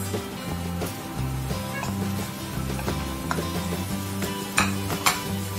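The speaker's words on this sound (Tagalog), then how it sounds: "Igisamahan natin siya sa luya. Tapos niyan, pag nag-brown na," Garlic and onion sautéing in oil in a pan, with a spoon stirring and scraping against the pan in repeated clinks and scrapes over a soft background sizzle, heard close and without talk.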